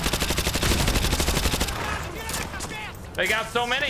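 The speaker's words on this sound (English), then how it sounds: "What do you guys think of this UMP sound?" Rapid UMP submachine gun bursts in the Call of Duty Modern Warfare 2 Remastered campaign, loud and close in a steady rattling stream for over a second, then scattered shots and a short spoken line over battle noise.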